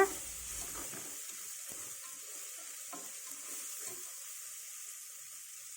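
Sautéed tomatoes in a pan for vegetable sambar, softly sizzling in a steady, faint frying hiss while a spoon stirs with a few light scrapes and clinks, close and without voices.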